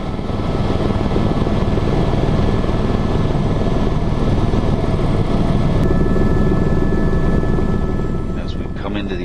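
A tour helicopter flies over Las Vegas near the airport, its loud, steady rotor and engine roar running continuously close by with no break throughout.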